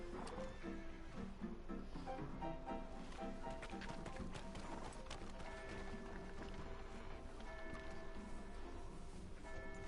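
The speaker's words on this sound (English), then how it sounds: "I'm going to, like, get on my horse and start walking out" Horse hooves clip-clopping at a walk, steady rhythmic thuds close by over a busy background of other sounds and faint voices.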